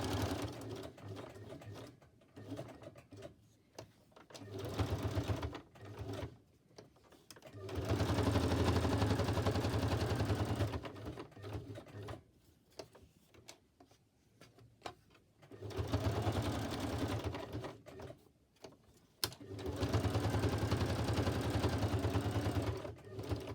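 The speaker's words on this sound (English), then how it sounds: "So first I'm going to stitch it down the middle" A sewing machine stitches down the middle of a piece of paper ephemera in several bursts of rapid mechanical whirring, separated by pauses of handling noise, close and clear.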